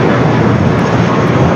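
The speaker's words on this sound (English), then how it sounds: "Next takeoff is a flight, that A320 with American, the old America West A320, I believe heading back to Phoenix." An American Airlines Airbus A320, a former America West jet, takes off from the south side at LAX. Its engines make a loud, steady roar close by throughout, with no voices.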